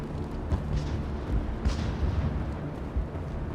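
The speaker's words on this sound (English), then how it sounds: "How is a woman supposed to think with guns going off all around?" Gunfire and heavy blasts rumble through a battle on the Feros colony in Mass Effect, with dense, booming bursts and scattered sharp pops overlapping continuously.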